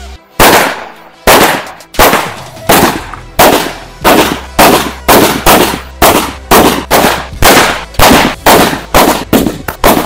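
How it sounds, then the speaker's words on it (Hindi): Mirchi bomb firecrackers explode one after another inside a water tank during a Diwali cracker test. About fifteen loud, sharp, booming bangs come close together in a fairly even rhythm, each with a short ringing tail. "मिर्ची बम टाइम के साथ डालते हैं"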